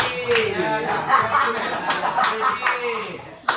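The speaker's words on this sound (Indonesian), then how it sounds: "Kasih tepuk tangan dulu, Nak. Kasih tepuk tangan." Children in a classroom clap in quick, rhythmic bursts while voices chatter and laugh around them.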